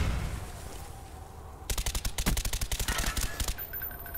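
Rapid automatic gunfire in the shooter game Call of Duty: Black Ops, a fast burst of evenly spaced shots running about two seconds after a quieter stretch of game ambience.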